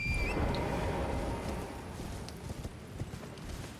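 Hooves of a horse galloping in Elden Ring give a steady, fairly quiet clip-clop rhythm, with a brief high game tone at the start.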